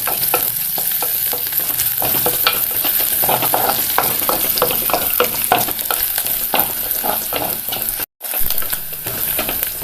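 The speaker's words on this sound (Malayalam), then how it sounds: "പച്ചമുളക് ചേർക്കാം. പച്ചമുളകിൻ്റെ പച്ചമണം ഒന്ന് മാറിക്കിട്ടണം, അതുവരെ ഒന്ന് വഴറ്റണം." Green chillies and onions sautéing for Ayala fish curry, a loud continuous sizzle with frequent scraping and stirring of a spatula in the pan, close up, briefly cutting out near the end before resuming.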